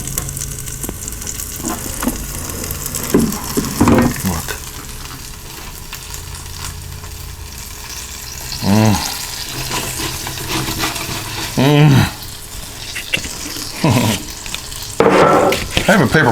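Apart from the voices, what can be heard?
air fried garlic parmesan chicken wings sizzling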